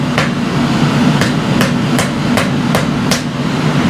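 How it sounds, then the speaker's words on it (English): A blacksmith's hammer taps a canister Damascus billet in seven sharp, evenly spaced metallic strikes, loud and close over a low steady hum, no talking. "I'm gonna get the hammer out and we got a little bubble in here."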